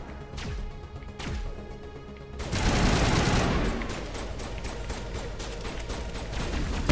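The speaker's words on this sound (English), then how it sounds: "Shotgun!" Shotgun fire in Mass Effect beside the stuck Mako vehicle: a couple of sharp cracks, then a loud dense burst of blasts and crashing debris that gradually settles into steady rumbling combat noise.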